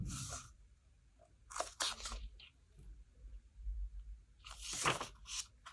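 A tarot deck being shuffled by hand, with a few short crisp rustling bursts of cards separated by quiet gaps, close and fairly soft.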